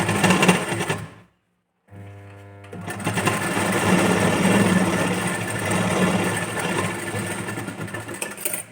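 A sewing machine stitches a hook strip onto a princess-cut boat-neck blouse, running in a steady mechanical whir, briefly stopping and falling silent before starting up again and continuing at a close, even pace.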